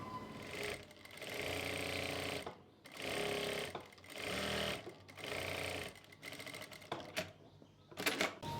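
Sewing machine stitching trouser pocket cloth, running in several close, loud bursts of fast rhythmic needle chatter separated by brief pauses, ending in scattered clicks.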